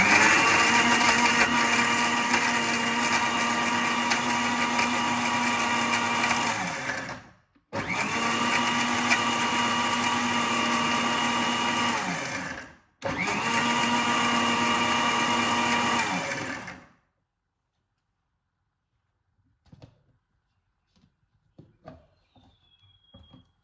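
An electric mixer blends juice in three loud, steady whirring runs of about seven, five and four seconds, separated by brief stops, followed by near silence with a few faint clicks.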